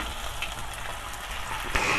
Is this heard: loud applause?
no